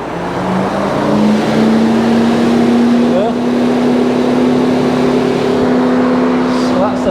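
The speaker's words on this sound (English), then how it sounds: "So that's the fan working." A steady, loud whirring hum of a Mini Cooper S engine cooling fan running continuously, with a brief spoken word partway through.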